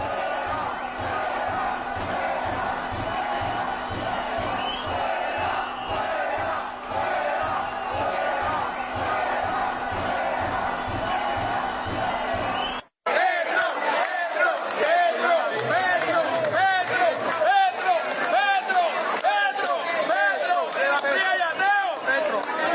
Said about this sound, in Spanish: al señor lo sacaron entre gritos y abucheos